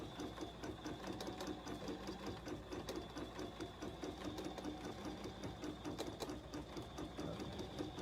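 A Bernina sewing machine stitches steadily while embroidering a garden flag, a fast even mechanical whir with regular clicking that runs without pause.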